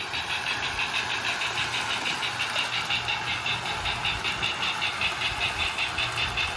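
A 50-year-old engine, restored with lubrication and rewiring, runs smoothly and steadily at close range, an even, continuous mechanical hum with a faint rhythmic pulse.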